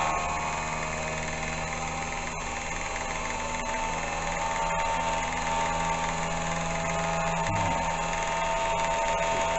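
A milling machine running near 1698 RPM on power feed cuts new vise jaws, giving a steady, even mechanical hum and whine throughout with faint tonal cutting noise.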